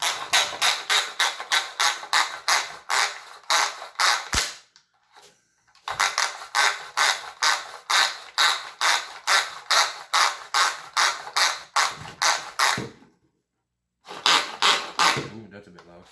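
A handheld gadget chopper works through a garlic clove, giving loud rapid ratcheting, rasping clacks in bursts separated by short pauses, close to the listener.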